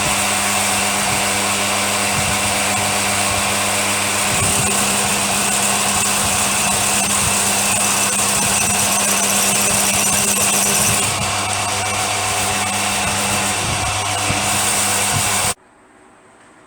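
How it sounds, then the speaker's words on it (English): Machining a counterbore for a socket head cap screw in a BSA Bantam motorcycle workshop: a loud, steady mechanical whine with cutting chatter that runs almost the whole time, then cuts off abruptly near the end. "So what we're doing now is the counterbore for the socket head cap screw."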